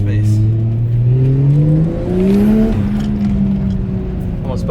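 A Toyota Soarer fitted with a swapped SC300 subframe, driven through a U-turn: a loud, close engine drone climbs in pitch, drops, then climbs again, with steady road and tyre noise beneath.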